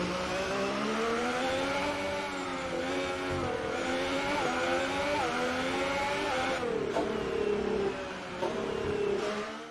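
Racing car engines in a video game race whine loudly and continuously, their pitch rising and falling through gear changes and acceleration, with no voices over them.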